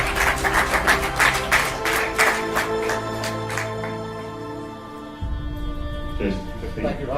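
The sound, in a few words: applause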